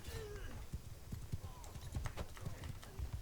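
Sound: horse galloping in video game Mount & Blade II: Bannerlord

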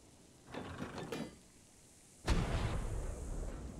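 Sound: cannon firing in video game ARK

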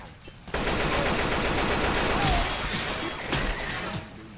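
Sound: gunfire in Left 4 Dead video game

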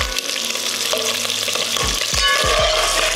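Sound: meat browning in grease in a skillet

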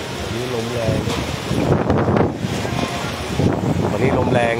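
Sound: strong wind blowing into the microphone

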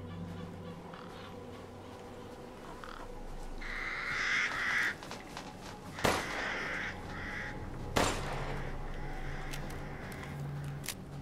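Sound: crows cawing in the video game Resident Evil 8

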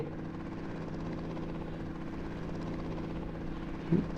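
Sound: helicopter starting and flying in Indian Bike 3D video game

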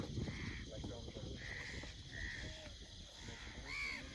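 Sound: birds calling

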